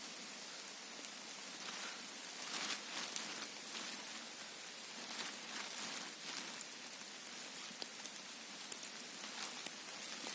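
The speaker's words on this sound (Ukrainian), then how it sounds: "дощик ще йде" Light rain pattering steadily on a surface, a soft continuous hiss with scattered drops, no voices.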